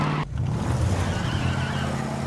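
A car driven hard in a movie scene, a loud engine roar with a sustained tire squeal and skidding hiss lasting a couple of seconds, close and unaccompanied by talk.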